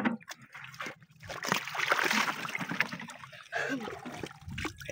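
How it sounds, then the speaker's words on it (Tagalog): Fish bait is poured into water outdoors during a fishing trip, with soft splashing and sloshing trickles close by, fairly faint, under quiet talking voices. "Dito dali, buhos mo dito yung pamain."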